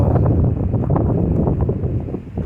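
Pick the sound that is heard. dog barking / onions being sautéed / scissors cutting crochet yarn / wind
wind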